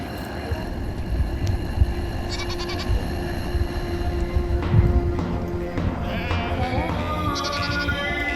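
Sheep bleat repeatedly in Mongolia, several calls rising over a steady outdoor background with shuffling hoof sounds, moderately near.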